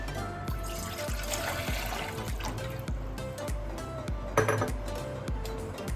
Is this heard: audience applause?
no